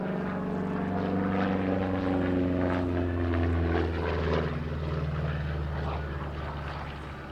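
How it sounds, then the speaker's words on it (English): A P-47 Thunderbolt warbird flies around the Gateway Arch at the St. Louis air show, its big radial propeller engine holding a deep, steady droning roar that stays loud and sustained throughout. "The big old P-47 Thunderbolt 2 flying it right around the outside of the St."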